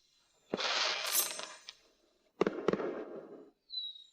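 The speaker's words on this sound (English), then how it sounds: "The fireworks are lovely." Fireworks go off in two separate bursts, each a loud blast followed by crackling that fades, with a short hiss at the very end and quiet gaps between them.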